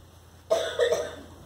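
A child coughs during a church sermon, a short burst of two or three close coughs after a quiet moment, fairly soft in a room.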